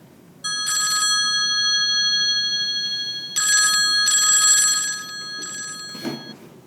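A telephone rings in bursts of electronic ringing with steady harmonic tones, three or four rings on an on-air radio call-in line, close and clear with no talking.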